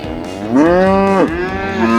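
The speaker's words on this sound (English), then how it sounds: "I got to feed one of the baby Highland cows" Young Highland cattle calf on a working farm lets out a loud, drawn-out moo, rising and then breaking off, followed by a second long bellow, close by and with no talk.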